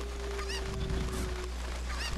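Squawking clucks of a Cucco chicken in the Zelda: Ocarina of Time video game, a few short honking calls repeating over a steady game hum.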